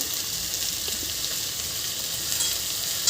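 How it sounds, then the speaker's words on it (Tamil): Two handfuls of drumstick leaves sautéing in a pan, a dense, even hiss of frying with soft stirring, steady and close for a few seconds, no talk. "இதை வந்து ஒரு டூ மினிட்ஸ் வந்து நல்லா வதக்கி விட்டுக்கோங்க கீரையை"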